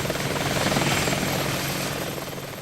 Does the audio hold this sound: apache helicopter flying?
yes